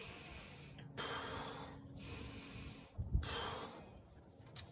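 Slow belly breathing shown as a breathing exercise: two long, airy breaths, each an extended hiss-like inhale or exhale, with brief pauses between them and a small click at the end, close and alone with no talk.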